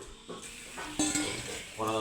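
Drumstick vegetable sautés with spices in a pan, giving a soft sizzle under intermittent spoon scrapes and light clinks as it is stirred.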